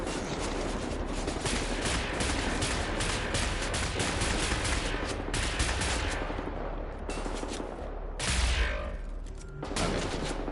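Dense, sustained gunfire from a gun in the Wolfenstein video game, rapid overlapping shots filling the whole stretch with a brief lull and a heavier burst near the end, loud and close with no talking.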